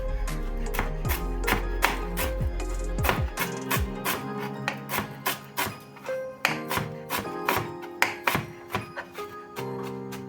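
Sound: knife finely chopping herbs

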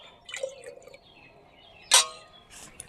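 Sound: water poured little by little into a jar

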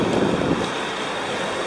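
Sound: wind blowing at the seaside

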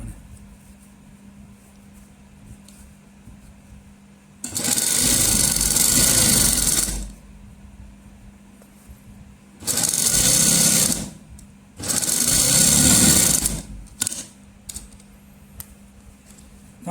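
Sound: sewing machine stitching salwar cuff with buckram

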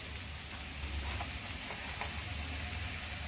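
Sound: spices frying in oil in a pan

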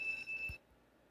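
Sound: alarm going off in the video game Stickman Survival

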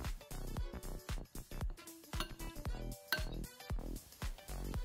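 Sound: mixing salad with olive oil in a bowl

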